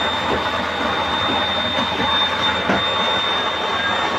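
Homemade cement stove built from a flower pot with a 3-inch GI burner with 24 holes and a blower, roaring with a strong steady flame, loud and continuous with a constant whine on top.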